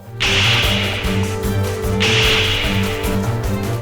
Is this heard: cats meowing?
no